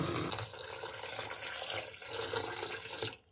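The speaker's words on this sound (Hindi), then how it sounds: "फिर ये पानी हम निकाल लेंगे और साफ पानी डालकर इसको डिप करके तकरीबन 10 से 15 मिनट रख देंगे।" Soaked rice is rinsed with water for Hyderabadi biryani: a close, continuous slosh and splash of water that stops abruptly near the end, with no talk.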